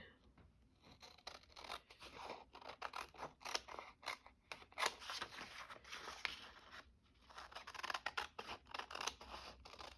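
Scissors snipping through paper while cutting out a piece for a spring craft journal, with repeated close crisp cuts and rustling paper, a short pause near the middle, no talk.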